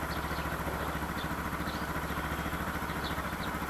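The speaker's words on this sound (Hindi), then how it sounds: "तो बाइक को कोल्ड स्टार्ट करने को दे दिया है अभी" A motorcycle idles after a cold start in a noisy outdoor spot in Meghalaya, its steady low engine rumble holding even and continuous throughout, with no talking.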